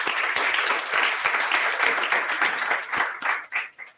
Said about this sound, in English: Please, can you give another round of applause to our panelists?